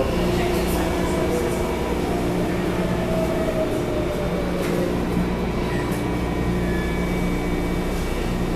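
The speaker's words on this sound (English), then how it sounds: "This train is bound for Airport Station." A MARTA Red Line subway train runs steadily on board between Five Points and the Atlanta airport, a continuous loud rumble and hum of wheels and motors with faint squeals, with no break throughout.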